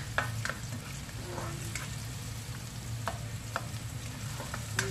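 Pork frying and sautéing in shallow oil in a pan, giving a steady close sizzle with intermittent stirring scrapes and clicks, no talking.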